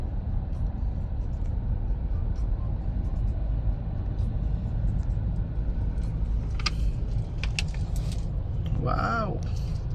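A car with dual exhaust mufflers idles as a steady low rumble close by, while someone talks over it and brief clicks and clinks come near the end.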